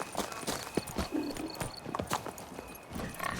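Roach, a horse in The Witcher 3: Blood and Wine, gallops with quick rhythmic hoofbeats, close and clear, with faint game ambience behind.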